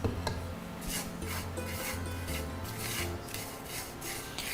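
Crispy vermicelli crushed finely by hand for semai kheer, giving a soft, continuous crackling rasp with rhythmic rubbing bursts, close and quiet, no voices.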